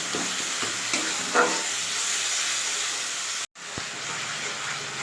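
Potato curry masala frying in a pan with a steady hissing sizzle, punctuated by soft scraping and tapping of a stirring spoon, briefly cut off near the end before resuming.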